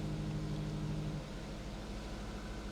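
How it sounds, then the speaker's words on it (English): A C7 Corvette engine idles steadily nearby with a dense, broad rumble and a low drone that eases slightly partway through. "The engine is smoothing out a little bit right now."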